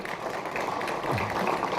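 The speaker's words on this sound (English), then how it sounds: "I believe we have a big applause that needs to be offered to our sponsor for the event" An audience applauds the event sponsor Peterson Pipes of Dublin at a pipe-smoking competition, a steady wash of many hands clapping at moderate distance with no talk over it.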